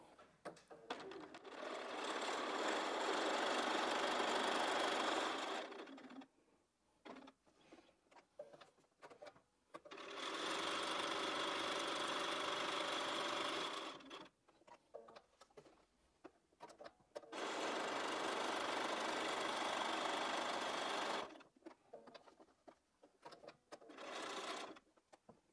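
A sewing machine stitches a quilt block seam at a scant quarter inch, running in three long steady whirring bursts separated by quieter pauses with light handling clicks, close and clear.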